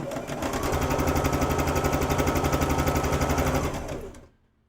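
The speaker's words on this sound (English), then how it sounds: "I'm just going to start sewing them in" A sewing machine stitches quilt pieces together in a fast, steady run of close, rhythmic needle strokes lasting about four seconds, loud and near, before cutting off to silence.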